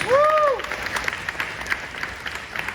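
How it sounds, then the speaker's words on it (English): Applause from an audience at an interview event with Giancarlo Esposito, a dense patter of clapping after a brief whooping cheer at the start. "Round of applause."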